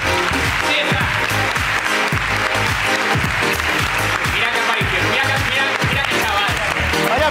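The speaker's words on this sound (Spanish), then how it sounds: "aplauso" A live audience applauding a contestant on a comedy podcast stage show, loud clapping heard under lively talk and laughter that runs throughout.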